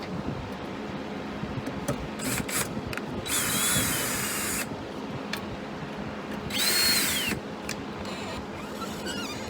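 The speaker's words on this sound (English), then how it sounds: "Then I have the torque tool, or the cordless drill, set really low, just enough to get it snugged in there" A cordless drill set to a low torque setting snugs timing cover bolts on a Nissan 3.5 L V6, giving short, repeated whirring bursts over steady background hum in a quiet workshop.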